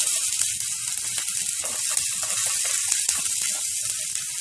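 Onion rava dosa frying in oil on a hot griddle, a steady close sizzle and hiss running evenly throughout with faint crackles, no voices.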